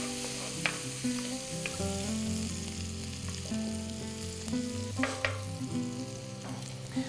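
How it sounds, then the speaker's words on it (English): Shallots sauté on medium heat in a pan for Thai coconut fish, with a steady close sizzle and a few stirring clicks under tonal background music. "So we're gonna add our shallots. And we're gonna give those about 3 to 5 minutes."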